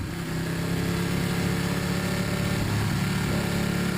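Motorcycle engine on a race circuit track day, recorded onboard while riding a lap, a steady, loud droning engine note with continuous wind rush and no gear changes or talk standing out.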